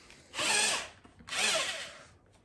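A handheld power drill whirs up twice in close succession, each burst loud and high-pitched for about half a second to a second with a brief pause between, nearby in an otherwise quiet space.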